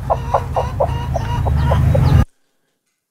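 A chicken sound clip at the end of a song gives a rapid run of loud, close clucks over a low rumble, then cuts off abruptly to silence.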